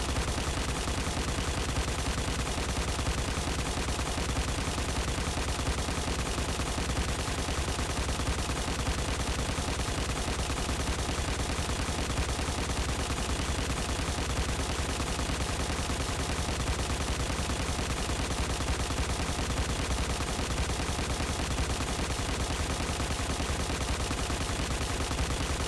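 Continuous rapid automatic gunfire from an exotic gun in the game Destiny, dense and loud without pause, the shots blurring into one unbroken rattling roar.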